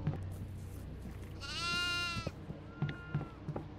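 Goats bleat in the horror game Devour, one long, wavering cry rising clearly above dim background noise, with scattered thuds and a fainter second bleat afterward.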